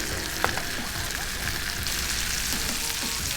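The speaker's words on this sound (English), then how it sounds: "I'm gonna throw my flatbreads down, and I'm gonna let these toast just a bit" Flatbreads toasting on a Blackstone griddle at medium heat give a steady, close crackling sizzle with one small tap near the start and no talking.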